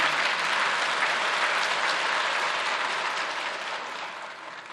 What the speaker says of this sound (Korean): 박수를 쳐주시는 것은 고마운데